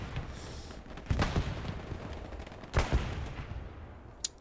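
Gunfire in the WWII shooter game Hell Let Loose as a tank comes under attack, two distinct louder bursts with a sharp crack near the end over a continuous noisy battle rumble.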